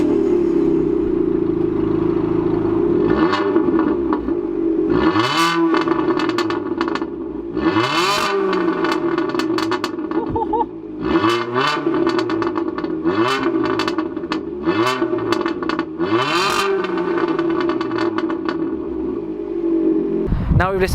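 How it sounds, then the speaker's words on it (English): Fiat Panda engine fitted with a straight-piped Abarth back box, raw and loud, starting and then revving in repeated sharp bursts that rise and fall over a steady idle, close by. "This Panda actually has an Abarth back box straight piped, so this sounds pretty raw."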